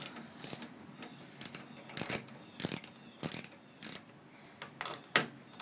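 A ratchet works a bolt loose on a Briggs and Stratton engine during carburetor cleaning, giving bursts of close clicking strokes repeated at an uneven rhythm, with quiet pauses between.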